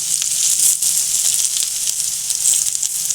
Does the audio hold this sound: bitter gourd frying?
yes